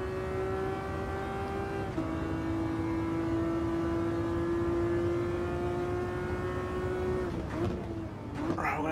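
A race car's engine drones steadily in Gran Turismo 7 during a slipstreaming chase behind a Ferrari Enzo, holding a high, sustained whine with brief dips at gear changes around the second and seventh seconds, and a fainter tone beneath it.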